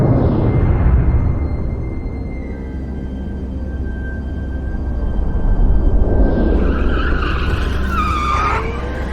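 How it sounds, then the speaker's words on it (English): Self-driving smart cars in a video game skid with long sustained tire squeals over a loud engine roar, the screech rising and bending near the end as they chase another car. "Those are self-driving smart cars, still up and running."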